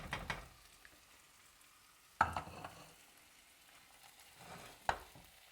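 Soft sizzling of onions and mushrooms frying in a pan with periodic clanks and scraping as they are stirred, three distinct stirring bursts spaced a couple of seconds apart.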